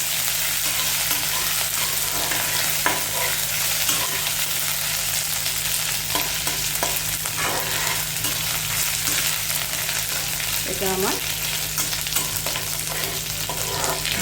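Ginger and green chilli paste fries in oil with curry leaves and well-toasted cumin, giving a loud, steady, close sizzle that runs unbroken throughout, with a few brief spoken words underneath.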